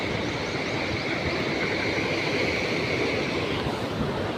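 Sea waves wash the shore near Koyla Dungar hill, heard as an unbroken, even roar of surf. The steady broadband rush holds constant throughout, with no voices.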